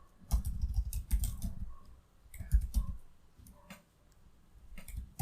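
Computer keyboard keys typed in quick irregular bursts with short pauses between them, close and clear, while someone codes in C++ with no voices heard.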